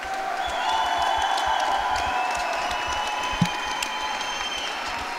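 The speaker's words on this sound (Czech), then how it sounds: "oba bojovníci si zaslouží obrovský potlesk" Sustained audience applause at a GCF 65 MMA event in Příbram after a bout between two fighters, a steady wash of clapping with a few isolated louder claps and a faint background tone.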